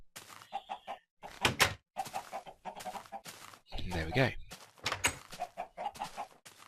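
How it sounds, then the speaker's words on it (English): Minecraft chickens on a chicken farm cluck in short bursts between stretches of someone talking, a busy low clucking cluster rising briefly in the middle. "Here is the first chicken farm"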